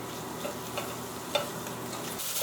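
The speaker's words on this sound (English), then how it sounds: "I'll just mix that in." Seasoning is stirred into a pot of cooked onions, garlic and herbs, a soft continuous sizzle with faint scraping of the spoon and a few light clicks close by, and no talking.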